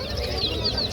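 Chickens, including native hens with chicks, at a busy Tongi livestock and bird market give short, high clucks over a dense background murmur of the crowded market.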